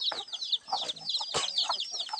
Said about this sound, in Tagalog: So, mayroon tayong manok.